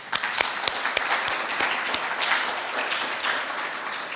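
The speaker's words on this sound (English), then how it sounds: "Can we give them another round of applause?" Audience applause at a research presentation town hall, a burst of sharp claps at the start settling into steady, moderately loud clapping from the crowd, with no talk over it.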